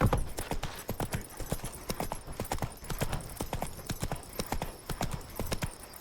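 Horse hooves clip-clop in a steady walking rhythm on a hard path in The Witcher 3: Wild Hunt, Blood and Wine, close and clear throughout, with a faint snort or whinny underneath.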